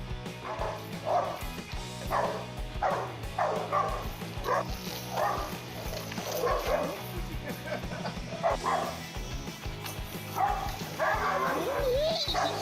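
A dog barks and yips repeatedly in short bursts, fairly close, with a busy background and some faint other sounds mixed in.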